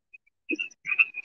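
Several frogs call at once in a Florida or Georgia chorus, short overlapping chirps and croaks in quick bursts, close and fairly clear.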